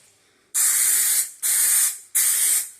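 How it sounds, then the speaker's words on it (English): Three sharp hissing sprays burst out in quick succession, each lasting about a second and tapering off, close and loud against a quiet background, sprayed onto a drywall paper repair. "And then spray again."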